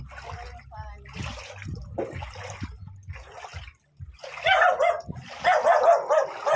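A dog barks and yips several times near a riverside, its calls mixed with someone talking nearby and faint outdoor ambience.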